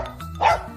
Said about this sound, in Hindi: डॉग्स यानी कुत्ते